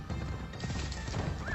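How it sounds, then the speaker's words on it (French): A horse in the Assassin's Creed Shadows video game whinnies near the end while hooves clip-clop steadily throughout, arriving over a dense in-game ambience with no talking. "on va enfin pouvoir appeler notre monture. Le cheval va venir à nous."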